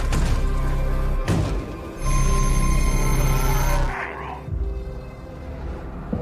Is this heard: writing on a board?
no